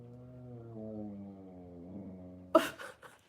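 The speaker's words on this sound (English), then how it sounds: "he'll make that groaning moo sound" Monty the dog lets out a long, low groaning moo-like vocalization, a drawn-out tonal moan lasting over two seconds, followed by an abrupt sharp snort or huff at close range, with no talk.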